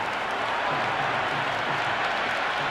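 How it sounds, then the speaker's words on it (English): A large cricket stadium crowd in the Cricket 26 game roars after a six is hit, a steady, dense wall of cheering and applause holding at full volume throughout with no pauses. "It's evident and ever so audible that the crowd is at near bursting point at today's play."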